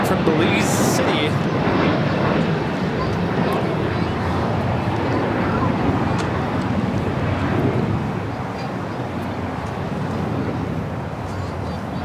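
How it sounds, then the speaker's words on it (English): Alaska Airlines jet landing at LAX, arriving from Belize City, a broad, loud continuous roar heard from outside with wind buffeting the microphone, easing slightly toward the end, with voices talking over it. "That was Alaska 1331 coming in from Belize City"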